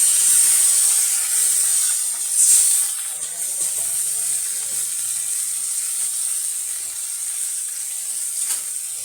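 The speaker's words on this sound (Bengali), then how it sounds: "এখন আমি এখানে পানি দিলাম।" Water poured onto onions fried until deep red hits the hot pan with a loud burst of hissing steam, then settles into a steady sizzle and bubbling, with no talk.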